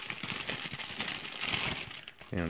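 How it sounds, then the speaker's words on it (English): A large, light plastic bag from a MiniArt 1/35 European Tram model kit box is handled and crumpled close up, giving a continuous crackly crinkling with small sharp rustles, and no one speaks. "Get that crackly plastic away."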